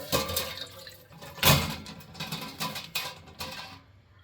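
Water and grit poured out of a rock tumbler barrel, a series of close splashing gushes and trickles, with one stronger surge near the middle and smaller pours tapering off toward the end.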